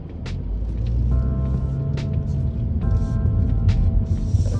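Interior drive of a 2021 Mazda 3 AWD sedan cornering, with a low steady road and engine hum, occasional clicks and tonal chimes or indicator sounds, and no talking.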